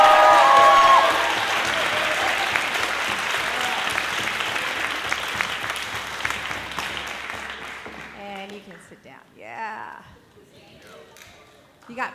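Audience applause fills a high school spring concert hall for award winners, a loud sustained round that tapers off after about eight seconds, followed by scattered voices and chatter.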